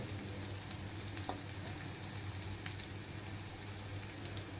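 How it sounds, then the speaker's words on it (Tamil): Dried chillies, curry leaves and peanuts fry in a pan with a steady, close sizzle and faint crackles running throughout, no voices present. "காஞ்ச மிளகா, கருவேப்பிலை எல்லாத்தையும் போட்டு வறுத்துட்டேன்."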